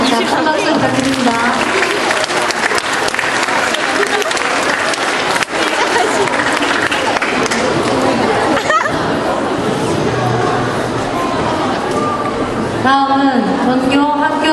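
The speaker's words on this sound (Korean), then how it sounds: "자, 큰 박수 부탁드립니다." A crowd claps steadily and continuously at a school principal's retirement ceremony, the applause mixed with chatter and murmuring voices throughout.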